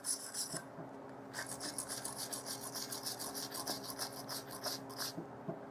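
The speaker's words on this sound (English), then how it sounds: "So get yourself a nice clean wire brush and just clean it up a little bit so you're back to nice clean metal." A wire brush scrubs welded sheet metal in quick, harsh back-and-forth rasping strokes, close up, with a brief pause after the first few strokes before steady brushing resumes.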